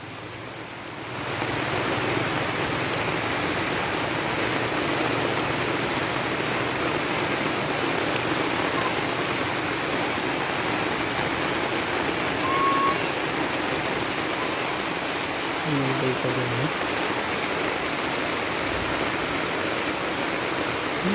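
Heavy rain pours steadily around someone walking outdoors under an umbrella, a dense, unbroken hiss that stays loud and even throughout with no talk.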